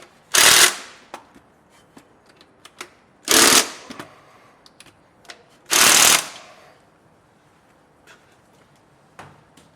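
A power impact tool tightens bolts on a Toyota 80/100 Series part-time 4WD kit in three loud, separate bursts, each about a second long, with light clicks and handling noises in the pauses between them.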